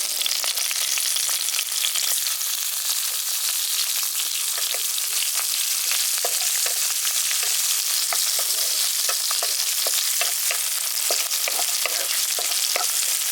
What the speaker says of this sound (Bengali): পেঁয়াজটাকেও হালকা করে একটু ভেজে নিচ্ছি, কালারটা চেঞ্জ হওয়া পর্যন্ত